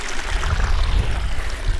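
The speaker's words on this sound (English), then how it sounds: "I found this nice little kind of mini waterfall in the stream" A small waterfall in a Yosemite mountain stream rushes in a close, loud, continuous roar of splashing water with a heavy low rumble, no voices over it.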